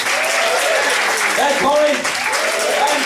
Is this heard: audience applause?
yes